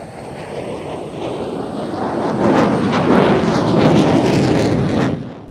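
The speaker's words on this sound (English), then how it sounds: "This is the second of the F-16's 360, which, as I say, was a bit quicker." An F-16 fighter jet flying a quick 360-degree turn at an air show, a broad, loud jet roar that swells toward the middle and holds before easing off near the end, with wind buffeting the microphone.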